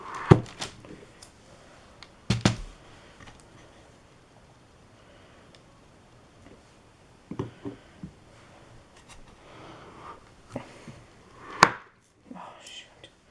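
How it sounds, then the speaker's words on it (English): A blade cuts through a melt-and-pour strawberry swirl soap loaf held in a miter box, giving a few scattered thunks and scraping strokes with quiet gaps, close and moderately loud. "I'm just moving it just barely to the end of my miter box here and cutting."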